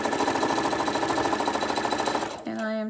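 A sewing machine runs a steady stitching line on a quarter-inch seam with a rapid mechanical chatter, close and even, then stops abruptly as a voice begins speaking.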